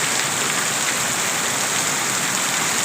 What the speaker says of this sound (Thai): ดีใจครับพี่น้องฝนตก